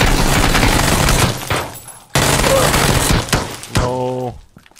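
AK rifle fire in the video game PUBG crackles in loud, dense bursts that stop abruptly, then start up again, close by and mixed with a brief voice.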